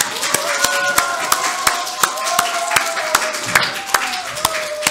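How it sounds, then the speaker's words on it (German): A small audience at a German book reading claps for an illustrator, with sharp, fairly sparse individual claps at a steady pace while a sustained tone rings underneath. "Vielleicht nochmal ein Applaus"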